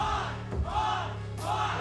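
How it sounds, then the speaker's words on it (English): A wrestling arena crowd chants for pie in loud, rhythmic, repeated roaring waves, with no clear speech standing out. "And this crowd, they are ready for some pie."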